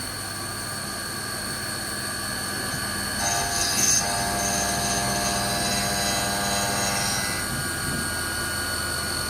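Haas VF3 CNC mill spindle running during positional machining on a 4th axis trunnion, a steady machine whine with tonal hum that swells with a brighter hiss midway, continuous and moderately loud without talk.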